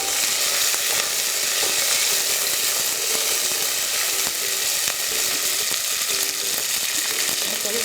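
Curry leaves sizzling in hot oil while vathal kuzhambu is cooked, a loud, dense, steady crackling hiss that fills the whole stretch without letting up.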